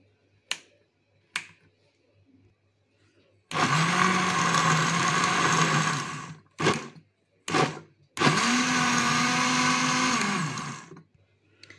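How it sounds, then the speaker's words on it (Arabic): Kitchen blender whirring as it mixes spices for homemade luncheon meat, in two long loud bursts of several seconds each with short pulses between them, plus a couple of clicks at the start. "هبتدي انزل بقى بالتوابل بتاعتنا الجميله دي في الخلاط كده."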